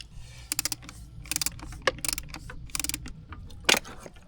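Two 10mm bolts are worked loose from the carburetor of a Tohatsu 9.8 outboard, with close, sharp ratcheting clicks and metallic clatters coming in short irregular bursts, with no talking.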